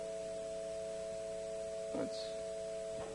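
Several pure, steady sine tones held together form a sustained major triad during a lecture on waveforms and pitch, with a brief soft knock partway through and no talking.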